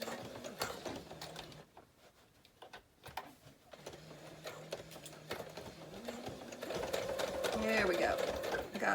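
A sewing machine stitches a journal pouch in rapid mechanical bursts, pausing briefly and then running faster and steadier, with a voice talking over it.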